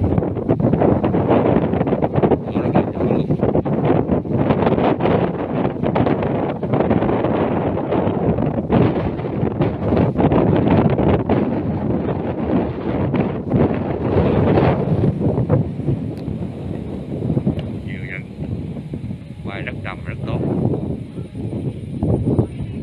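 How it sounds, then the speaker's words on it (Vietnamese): Strong gusty wind beside a large cable-stayed river bridge buffets the microphone in heavy, continuous rumbling blasts that ease slightly near the end, with no talk. "Thấy gió không?"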